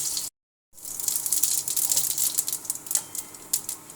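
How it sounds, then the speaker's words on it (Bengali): Bay leaves crackle and sizzle in hot oil left from frying fish, a busy close-up spitting that starts after a brief silence and keeps going in small sharp pops, with no talking. "এবারে মাছ ভাজার তেলের ভিতর দিয়ে দেবো তেজপাতা।"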